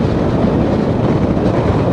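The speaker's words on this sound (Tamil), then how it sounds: "காற்று சரியான காற்றுங்க, சரியான காற்று." Strong wind roars steadily over a vehicle driving across the Pamban bridge, a loud, continuous broadband rush with no voices.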